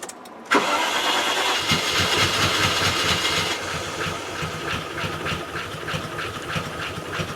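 A Range Rover engine cranks and catches after a brief silence, then settles into a loud, close, slightly uneven running rumble with a steady pulsing rhythm.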